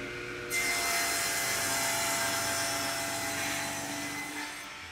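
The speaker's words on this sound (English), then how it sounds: "It's my table saw." Table saw ripping through a wooden block meant to be turned into a fishing lure: a loud, sustained whining cut that starts abruptly and holds steady for several seconds, close and without talk.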